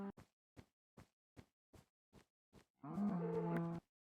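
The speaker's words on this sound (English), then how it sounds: "I'm going to have to kill these cows. They're so annoying." Blocky Minecraft cows give a run of short, evenly spaced grunting steps, then one long, loud moo closes the sequence, heard alone with no talk.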